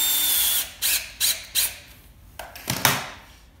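A hammer drill drives a concrete screw into a concrete floor in short, loud whirring bursts of a second or less, separated by brief pauses, with a squeaky, ratcheting edge close by.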